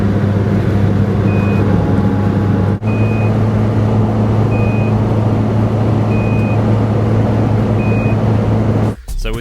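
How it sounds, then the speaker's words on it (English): A Nissan March gives a short, high warning beep about every second or so, repeating evenly over a loud, steady engine and road drone heard from inside the car. "So with 1 beep a second,"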